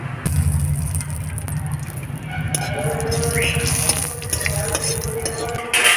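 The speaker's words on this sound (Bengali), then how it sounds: "তেলটা গরম হয়ে গেছে এবং তেলের মধ্যে ওই রসুন আর শুকনো লঙ্কাটা দিয়ে ভালো করে ভেজে নেব" Dried red chillies and garlic sizzling in hot mustard oil in a pan, a steady, fairly loud frying crackle with low rumbling underneath throughout.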